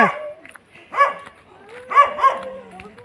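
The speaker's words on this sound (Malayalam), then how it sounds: "നമ്മളെ സ്വീകരിക്കുവാന്ന് തോന്നുന്നു പട്ടി" A dog barking at arriving visitors at a house, several loud nearby barks in short bursts with a tonal, yelping quality and pauses between them.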